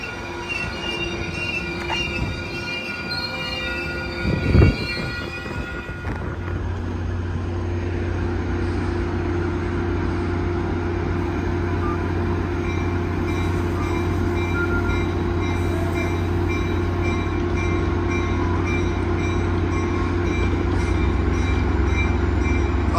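A Caltrain commuter train passing in South San Francisco: a sharp clank and brief squeal, then a loud, steady rumble of rolling wheels and a deep engine drone that builds and holds close by for the rest of the span.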